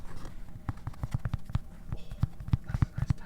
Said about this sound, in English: That's a nice tapping sound.